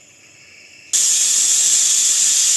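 A pressure cooker whistle releasing steam on the stove, a sudden loud bright hiss that starts abruptly and holds steady.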